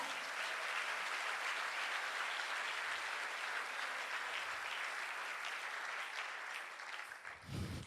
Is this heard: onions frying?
no